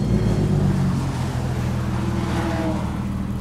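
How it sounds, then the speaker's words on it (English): Porsche 911 GT3 RS engine at a race track, a loud steady mechanical drone that rises slightly in pitch near the end, heard up close throughout with no talking. "So I'm gonna go for a ride in this 911 GT3 RS"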